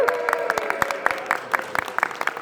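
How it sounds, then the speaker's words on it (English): A convention panel audience claps in welcome, a dense run of sharp hand claps at moderate volume, close and continuous, with no voices over it. "Shall we welcome them? Yes! With a huge round of applause."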